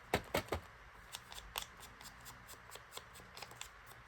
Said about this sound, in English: So I'm just cutting along where that scored it.